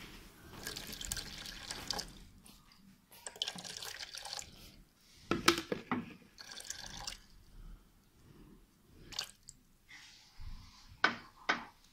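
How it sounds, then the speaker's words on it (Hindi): Water poured into a plastic container for homemade black seed soap, coming as intermittent splashing and trickling bursts with quiet gaps between them, heard close and alone. "अब जो है हम 10 ऑन्स जो है पानी लेंगे इसमें प्लास्टिक के डिब्बे में।"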